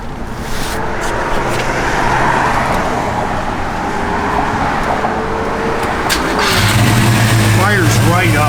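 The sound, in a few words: 1969 Chevrolet Chevelle SS engine starting and idling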